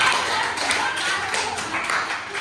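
A classroom group applauds together, a dense, steady burst of many hands clapping at once that fills the whole stretch with no voices over it.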